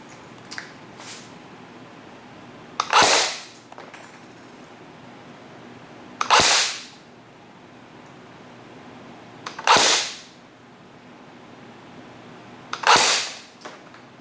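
A G&G PDW 99 airsoft gun fires on semi-auto, four separate sharp cracks spaced roughly three seconds apart, each a crisp snap with a short tail, close and distinct over a faint background hiss.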